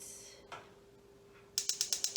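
A gas stove burner is lit under a large saucepan with a little olive oil, and the igniter gives a quick run of about six sharp, evenly spaced clicks as the knob turns toward medium heat.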